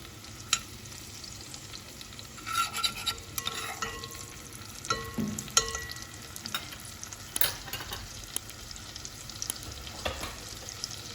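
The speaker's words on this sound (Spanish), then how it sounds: "Entonces vamos a dejar sofreír un poquito." Ingredients for rora sauté quietly in a pan, a soft low sizzle with intermittent stirring scrapes and light clinks, fairly faint throughout.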